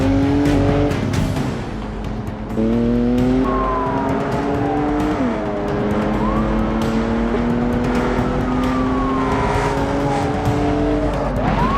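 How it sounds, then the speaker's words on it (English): Car engines rev and whine in a BeamNG police chase as vehicles lose control, with rising and falling engine pitches, possible tire squeal and loud, close, continuous motor noise throughout. "The police officers skillfully avoided collisions as cars lost control and crashed around it."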